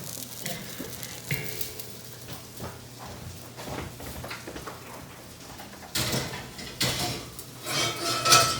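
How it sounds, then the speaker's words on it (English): The heavy lid half of a Dutch oven is set down over a scored rosemary and Kalamata olive sourdough loaf, giving metallic clanks and scrapes of cookware with a louder clatter near the end. "And we cover it up with the other half of the Dutch oven."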